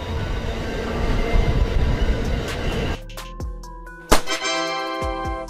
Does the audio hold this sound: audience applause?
no